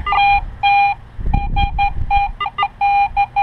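Metal detector beeping on a buried target, a loud, tonal electronic signal in repeated pulses of varying length, with scraping ground noise partway through.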